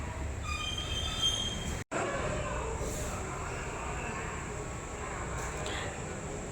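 A train at Chengalpattu railway station, heard as a steady metallic wheel squeal and rolling rail rumble that continues throughout, with a brief dropout partway and faint voices in the background.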